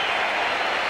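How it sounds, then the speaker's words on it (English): A cricket crowd at the SCG in Sydney applauds, a dense, continuous roar of clapping from many spectators that stays loud through the whole brief stretch. "But the crowd delighted to have Dean Jones back in the Australian side, and they've let him know at every ground"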